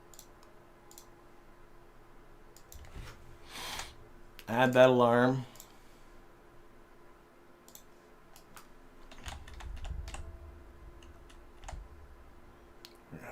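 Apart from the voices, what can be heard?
computer mouse clicking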